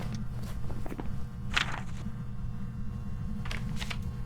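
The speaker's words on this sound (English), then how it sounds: "Those are those footsteps you hear." Ghost footsteps in the Phasmophobia video game, stepping through salt: a few faint, scattered steps over a steady low background hum.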